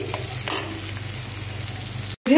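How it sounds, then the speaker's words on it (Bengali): Onions fry in a pan for chow mein, giving a loud, steady sizzle with faint stirring scrapes before the sound cuts out briefly near the end. "পেঁয়াজটা আমি একটু ভালো করে ভাজিয়ে নেই।"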